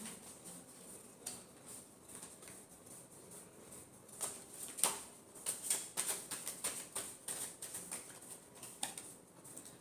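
Tarot cards are shuffled in soft, quick papery riffles and taps, faint at first and then a denser run of close flicks toward the end, with no talking.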